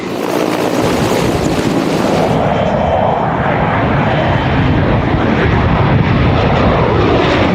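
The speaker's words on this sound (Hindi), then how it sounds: "MiG-21 और मिराज ने पाकिस्तानी कैंपों पर बमबारी शुरू की।" MiG-21 and Mirage fighter jets on a bombing run in the Kargil War, heard as a loud, continuous jet roar that holds steady throughout.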